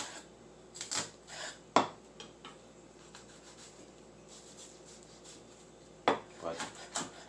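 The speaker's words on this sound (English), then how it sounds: "now let's go on to the shallot. And I'm going to chop it up the way I kind of would like an onion." Knife on a cutting board chopping a shallot the way an onion would be cut: a few sharp, isolated knocks spread out with quiet gaps between them, fairly faint and close.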